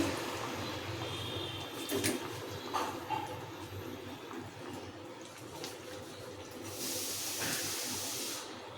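A pot of broth for katla fish curry, with potato and cauliflower pieces in it, bubbles with a steady, faint hiss and soft, continuous simmering noise.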